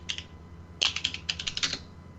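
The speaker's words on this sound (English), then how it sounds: "I hear typing. Somebody's taking notes." A couple of short, quiet bursts of fast clicking keystrokes on a computer keyboard, someone taking notes in a room with a low background hum.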